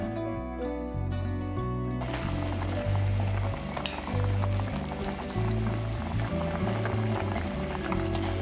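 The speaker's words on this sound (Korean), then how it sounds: "이렇게 해서 약 5분간 끓여낸 뒤에 양념장과 야채를 넣고 푹 익혀주도록 할게요." Korean braised spicy chicken with sauce and vegetables bubbles in a pot, a constant close sizzling boil under background music.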